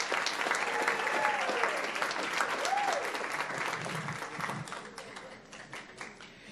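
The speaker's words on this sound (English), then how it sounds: "Let's give her a round of applause." An audience claps steadily for a school counselor at a county school recognition event, loud at first and gradually fading, with faint voices mixed in.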